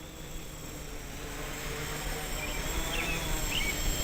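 A Spider Quad Quadrino 2.0 quadcopter hovering with altitude hold on, its motors giving a steady, high-pitched buzzing whine that holds level and swells slightly, with no talking.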